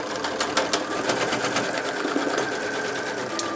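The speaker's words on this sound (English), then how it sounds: "As I sew through this 8-ply denim, I can speed the machine up or slow it down to my needs." A Janome DC2015 sewing machine stitches through eight layers of denim, giving a steady, close, rapid mechanical whir and clatter that holds constant throughout.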